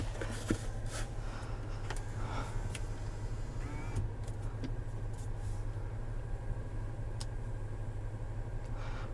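A 2020 Chevrolet Traverse 3LT rolls along a road, heard from inside the cabin as a steady low road and engine rumble with faint interior clicks and rattles, no talking.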